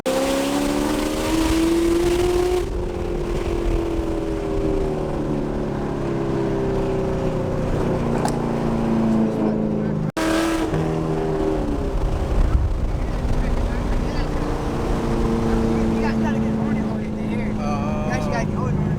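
A Camaro ZL1 1LE with a loud aftermarket muffler rumbles and revs from inside the car, its exhaust drone rising and falling steadily while people talk over it.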